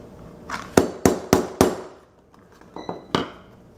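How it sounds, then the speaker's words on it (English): Rivets for a cosplay piece being hammered: four sharp, evenly spaced metallic hammer blows close up, then a pause and a few lighter taps, with no talking. "Now I put the next one in before I re-hammer that one, just to help sturdy this."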